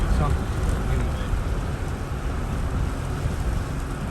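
Rain falling steadily on a corn field outdoors, a dense, continuous hiss and patter that stays loud and unbroken throughout.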